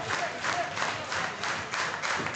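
Wrestling crowd in Buda cheering steadily through a match, a dense roar of voices swelling in rhythmic waves with scattered shouts and claps, loud and continuous with no talk over it.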